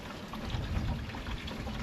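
Tap water flowing through the radiator of a 2004 Subaru Impreza during a coolant flush, a soft, steady rushing trickle at low level that swells slightly midway.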